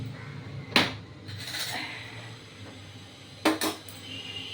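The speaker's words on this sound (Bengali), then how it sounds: "এবার এবার আমি চামচ দিয়ে তুলে দেখাচ্ছি" A metal spoon clinks against a steel bowl while scooping freshly made coconut chutney, two sharp knocks separated by softer scraping in a quiet kitchen.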